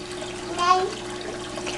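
Water runs steadily into an aquaponics tank, a soft continuous pour with a faint bubbling swell partway through, heard close and fairly quiet.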